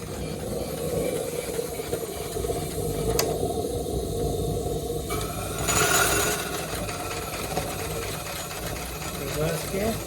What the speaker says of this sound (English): If you want to run it mechanically, pop it into gear. You can see all those gears working.